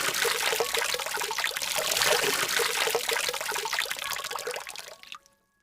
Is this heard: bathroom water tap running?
yes